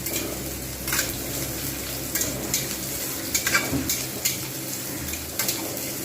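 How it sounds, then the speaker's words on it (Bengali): Onions fry in a pan until reddish brown while a spatula stirs them, a steady sizzle under regular clinks and scrapes of metal against the pan, with no voices. "পেঁয়াজগুলো ভালো করে লালচে করে ভেজে নেবো"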